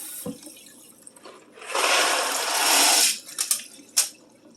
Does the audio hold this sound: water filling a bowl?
yes